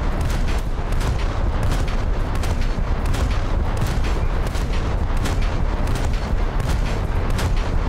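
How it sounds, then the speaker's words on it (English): Rapid gunfire from an Albatros fast attack craft in the naval combat game War Thunder, a loud, continuous barrage of booming cannon shots and crackling bursts that keep going throughout without pause. "Put some reply shots out to him."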